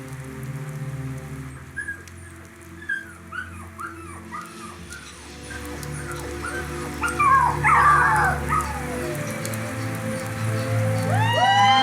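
A dog whimpers and yips in a repeated, rising series during a stage play about rescuing a dog from a rain-filled drain, with the sound of rain on a surface underneath that grows louder toward the end.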